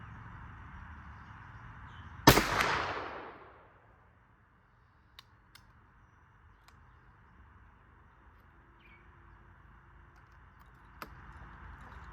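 A single sharp rifle shot from a Jutland Jæger rolling block firing a custom .45 Jæger load, a loud crack followed by a rolling outdoor echo that fades, then a few faint clicks of handling.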